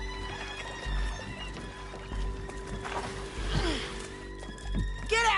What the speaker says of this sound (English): hold your horses